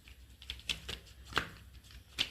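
Wheat dough pressed and patted flat by hand onto an oiled leaf, making soft, irregular slapping taps spaced across a couple of seconds, close and quiet.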